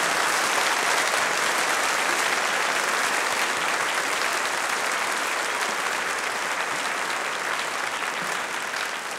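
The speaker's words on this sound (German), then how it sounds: "Applaus." Dense, steady applause from a live audience, loud and continuous for about nine seconds before easing slightly at the end, with no voices over it.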